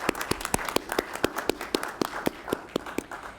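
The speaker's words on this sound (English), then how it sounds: "Please join me in a round of applause welcoming them as well" Steady, evenly spaced claps ring out at a bus operator graduation ceremony, sounding like a small number of hands beating a brisk, regular rhythm that stays moderately loud throughout.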